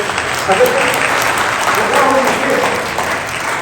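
An audience at a teacher training session claps continuously, a dense steady round of applause lasting several seconds.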